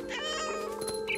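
A cat meows in the video game What Remains of Edith Finch, one drawn-out, close, fairly loud call that holds steady over a low tonal game backdrop.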